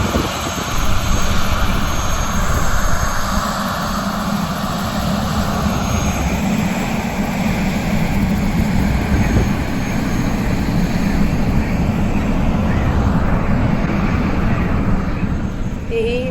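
A helicopter flying over the Grand Canyon gives a loud, continuous rotor and engine drone, steady and close throughout with no break.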